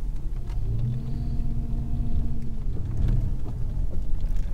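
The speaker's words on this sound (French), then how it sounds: "Et puis ce bruit du V8 là, c'est cool quand même." Chrysler 300C with a V8 Hemi engine, a deep loud throaty rumble that swells and settles in low waves, close by and heard alone without talk.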